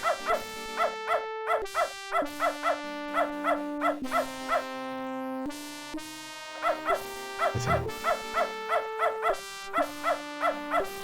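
A dog in the Beneath a Steel Sky video game barks in repeated short yaps, evenly paced pairs and triplets over a sustained synthesized music backdrop, close and clear.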